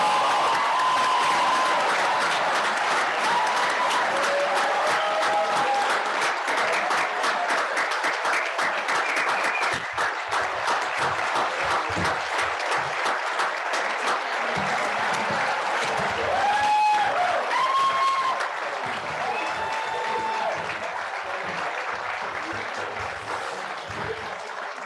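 Long, steady applause and cheering from a school commencement crowd honoring the graduating class of 2021 at Wilbraham & Monson Academy, loud and continuous throughout with occasional whoops rising above the clapping.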